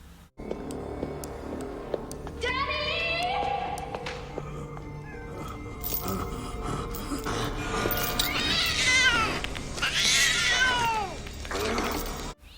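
A cat meows and yowls repeatedly in several drawn-out, rising-falling cries over a busy background of music and movement noise.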